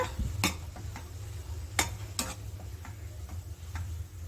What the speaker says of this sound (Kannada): ಅದನ್ನು ಇದಕ್ಕೆ ಸೇರಿಸ್ಕೊಂಡು ಒಂದು ಸಲ ಮಿಕ್ಸ್ ಮಿಕ್ಸ್ ಮಾಡ್ಕೊಳ್ಳೋಣ